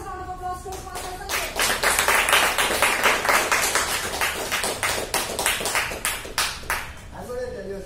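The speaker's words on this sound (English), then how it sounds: "with the loudest round of applause to Mr." An audience at a Toastmasters club meeting gives a round of applause for a speaker, dense clapping swelling quickly and holding steady before thinning out as a voice returns at the end.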